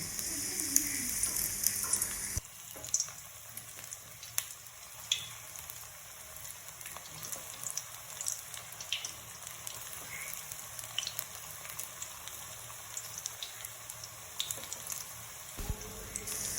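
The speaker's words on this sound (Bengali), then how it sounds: "তারপর এক এক করে আমি চপগুলোকে তেলে" Potato chops fry in white oil over a low flame, giving a faint, continuous sizzle with scattered soft pops and crackles after a brief louder burst at the start.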